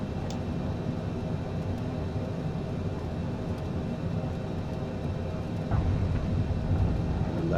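A Cessna lands in Microsoft Flight Simulator 2020, with a steady engine and airflow drone and a slight swell near the end as the wheels meet the runway.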